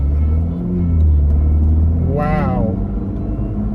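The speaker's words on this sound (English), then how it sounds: "Listen to that exhaust." Deep rumbling exhaust of a 2018 Volvo V60 Polestar under light acceleration, a steady low drone heard from inside the car, with a brief exclamation from a person partway through.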